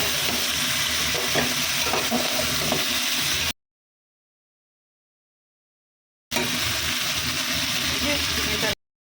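Onion, garlic and green chilli frying in a pan, a steady close sizzle with stirring scrapes that cuts off into silence and then returns briefly.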